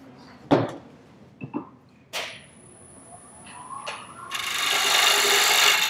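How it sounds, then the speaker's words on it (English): A wooden box turns on a lathe while a tool domes off its top, with a few short, sharp scraping strokes followed by a longer, steady rasping cut that grows louder toward the end. "I just kind of dome off the top of this."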